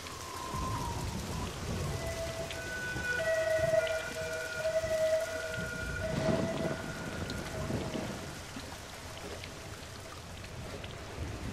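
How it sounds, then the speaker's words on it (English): Steady rain in the video game The Lost Crown hisses over low rumbles, with faint tonal hums and a distant siren-like whine drifting through. "And it's raining."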